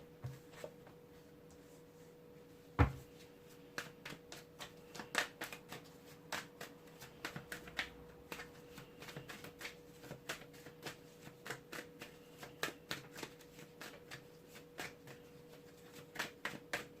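Tarot cards being shuffled by hand produce quiet, quick, irregular papery flicks and riffles close up, with one sharper knock early on and a faint steady hum beneath.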